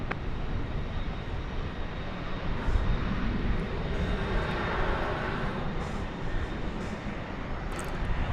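Airliner engines roar steadily at DFW Airport as a United Airlines flight from Denver arrives. The loud, sustained broadband rumble and whine holds constant throughout, with no voices over it.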